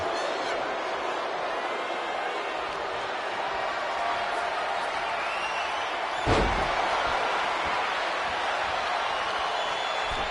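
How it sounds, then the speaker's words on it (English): Arena crowd noise from a WWE 2K25 wrestling match, a steady broad roar of cheering that runs throughout, with a single sharp slam-like impact partway through. "Well, the crowd seems to enjoy this match as Henley gets hit with that move"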